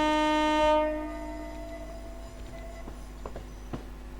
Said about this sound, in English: It's a little whistle.